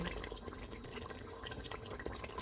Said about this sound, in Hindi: इसमें गरम मसाला पाउडर डालेंगे, केवड़ा वाटर, धनिया डालेंगे